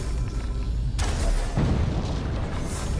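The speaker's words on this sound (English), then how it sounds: "if you shoot the fire with the bow, it causes an explosion" In the video game Middle-earth: Shadow of War, an arrow shot into fire sets off a sudden loud explosion that bursts into a broad roaring blast and then rumbles on over constant game noise.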